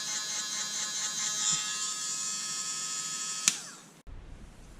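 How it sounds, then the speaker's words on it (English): A hairdryer motor spinning with no attachment fitted, a steady high electric whine and hum that runs alone at low level, then cuts off abruptly near the end. "That's just the motor with nothing on the end."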